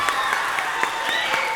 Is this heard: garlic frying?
no